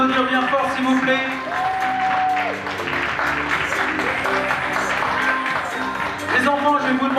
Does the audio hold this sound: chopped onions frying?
no